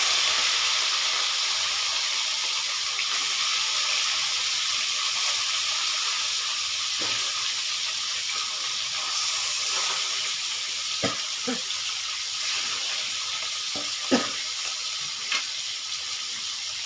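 Pieces of catla fish fry in hot mustard oil with a steady, even sizzle and hiss, broken by a few light clicks and knocks, with no voices.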